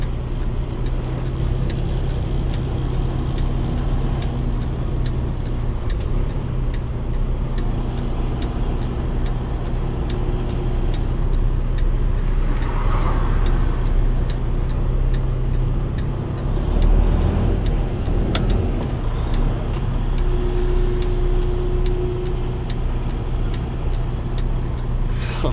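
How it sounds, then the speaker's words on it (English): Steady street traffic rumbles around a 2015 Kenworth T680 truck, a continuous low drone of passing engines with a brief hiss and a few louder swells, and no voices. "I doubt this traffic is gonna stop for me"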